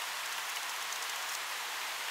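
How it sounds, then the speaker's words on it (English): Rain begins to fall outdoors as a steady, even hiss of drops, moderately loud and continuous, with no voices. "it's beginning to rain now."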